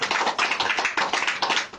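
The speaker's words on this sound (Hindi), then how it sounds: "ताली बजा के प्रभु धन्यवाद कर" A church audience claps their hands in a brisk, irregular burst of applause, close and fairly loud, with no talk over it.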